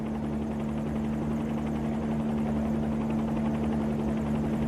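A Bell 47 helicopter in a freeware flight simulator flies steadily, its rotor and engine making a continuous low droning hum with a strong steady tone, loud and even throughout with no voices.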